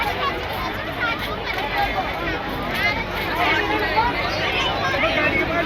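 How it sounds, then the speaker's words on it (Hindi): Dense crowd chatter fills the air outside a Shrimad Bhagwat Katha religious gathering in Jaipur on a busy Sunday, a steady, close wall of overlapping voices with no single speaker standing out. "आज बाहर देखो कितनी भीड़ है।"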